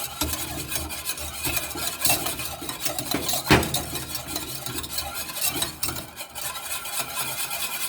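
Whisk scraping and tapping steadily against a saucepan on the stove as a sabayon is beaten, a continuous busy metallic stirring with brief louder clinks.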